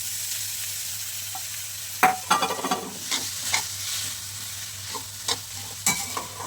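Roasted dates and mawa are stirred in a pan for a Gujarati sweet, making a steady hiss broken by repeated scraping strokes of the spoon. No voices are heard.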